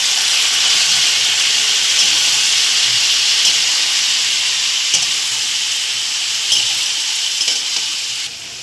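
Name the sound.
papaya and potato added to pan, frying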